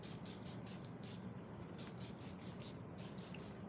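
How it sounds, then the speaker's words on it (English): Cotton Clouds fragrance mist by Okja sprayed in a quick run of short hissing pumps, a pause, then more rapid bursts, close up over steady background noise. "I'm gonna spray Cotton Clouds by Okja."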